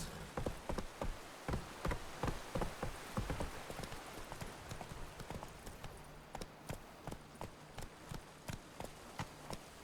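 Horse hooves clip-clopping at a steady walking rhythm, a long run of crisp, evenly spaced hoof strikes, fairly close, with a faint buzzing insect-like hum underneath and no talking.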